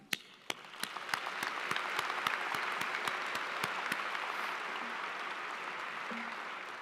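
A commencement crowd applauding steadily, dense clapping that swells quickly and holds at an even level, with a few sharper individual claps near the start.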